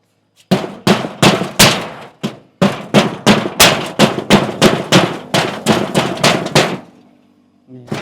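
Nails driven by hammer during a house teardown, a rapid run of about twenty sharp, loud metallic strikes in steady rhythm close by, then a pause and a final blow, with no talk over them.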